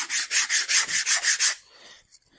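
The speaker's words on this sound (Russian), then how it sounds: "Можно браться за наждачку." Sandpaper rubbed by hand along the fuselage of a Boeing 787 scale model, about eight quick even back-and-forth scratchy strokes, close and clear, followed by a few faint handling sounds.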